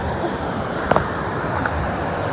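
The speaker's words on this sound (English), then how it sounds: "Let me show the guys the waterfall." Steady broadband rush of a river waterfall in Ocho Rios, Jamaica, a continuous water roar with a couple of faint brief knocks, no speech.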